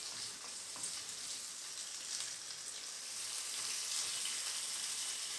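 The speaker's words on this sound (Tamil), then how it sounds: "காரம் வேணுங்கிற அளவுக்கு வரமிளகாய் சேர்த்துக்கலாம். சேர்த்துட்டு ஒரு வறுப்பு வறுத்துடணும்." Dry red chilies roast in a little oil in a pan for horse gram chutney, a faint, steady hiss of sizzling with no talking.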